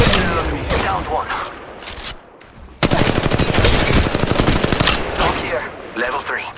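Rapid automatic gunfire from the mobile battle royale game Apex Legends Mobile, loud and sustained in dense bursts with a brief lull midway before the firing resumes even heavier.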